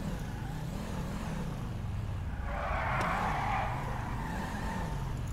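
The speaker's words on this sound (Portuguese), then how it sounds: "Tá queimando o pneu aí atrás." Car tires squealing while burning rubber in GTA 5, a continuous engine drone with a sharp screech of tire squeal rising over it in the second half, close and steady.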